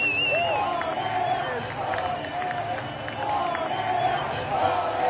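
Football fans fill a stadium with massed singing and chanting, a broad, far-off roar of many voices rising and falling in a loose rhythm, with some clapping underneath.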